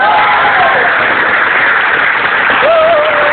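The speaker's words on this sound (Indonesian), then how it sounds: "Luar biasa, tepuk tangan dong." Audience applause at a televised Indonesian variety show after a sword-play performance, a steady dense wash of clapping from a crowd with a brief whistle-like tone near the end, loud and continuous throughout.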